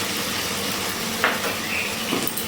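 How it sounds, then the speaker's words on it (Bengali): Tomato paste with spices and ginger sautéing in a hot pan gives a loud, steady sizzle. A couple of brief spoon scrapes cut through the continuous frying hiss. "এবারে খুব ভালো করে কষিয়ে নিচ্ছি"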